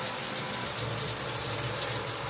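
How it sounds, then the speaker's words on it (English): Steady rush of running water from a hotel shower, continuous broadband hiss with low rumble, close and unbroken, no talking. "time to go for a shower"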